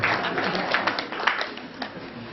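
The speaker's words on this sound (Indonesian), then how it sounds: "Tepuk tangan ibu" Audience applause at a school gathering, a short burst of mixed clapping at moderate level that tapers off slightly toward the end.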